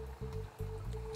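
Compost tea brewing as an air pump pushes air into water gives a continuous low gurgle and bubbling with a steady humming drone, close and fairly quiet, with no voices.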